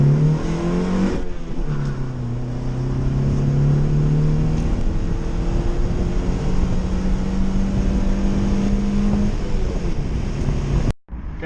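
An old Honda Civic EK in first and second gear: engine revving up with rising pitch, dropping as gears shift, then climbing again; steady road and wind noise throughout, close and loud, ending with a sudden cut.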